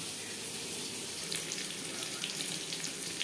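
Potatoes fry in oil with tempering spices for an egg and potato curry, giving a continuous close sizzle with faint crackles throughout.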